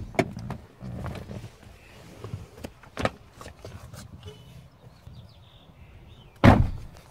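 A car door being opened and then shut during a child-safety demonstration, with soft handling noises followed by a single firm, close thunk as the door closes near the end.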